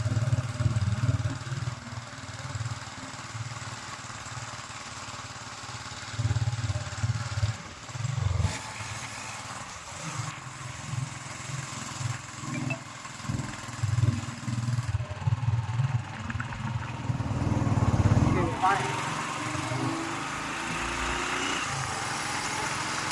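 A motorcycle rides along a forest tar road toward Kondapalli Fort, its steady mid-pitched engine drone holding close throughout with small surges and dips in throttle and no talking.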